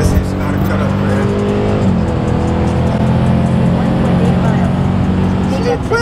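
A Dodge Scat Pack accelerates hard on a highway, its engine holding a loud, steady roar with rising pitch from inside the car, while people talk over it.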